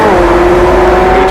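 A 2019 McLaren Senna, a 789 bhp track car, drones at steady revs in race mode, its induction and engine tone loud and close inside the cabin, with no talk.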